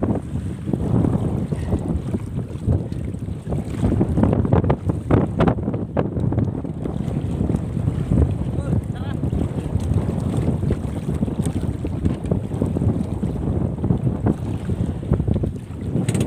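Strong wind buffets the microphone with a constant roaring rush, while water and the boat's motion churn beneath, loud and unbroken throughout.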